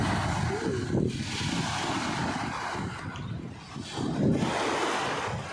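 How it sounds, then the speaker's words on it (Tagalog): Rough sea and wind roar continuously, with surges of crashing surf swelling and fading, loud and close with strong wind buffeting the microphone. "Medyo malakas-lakas ang alon ngayon."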